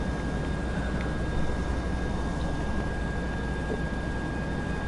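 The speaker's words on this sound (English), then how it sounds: "Okay, you got an odd plane out there." A plane in the GTA 5 video game hums steadily, a constant broadband engine drone with a faint whine on top. Nobody talks over it.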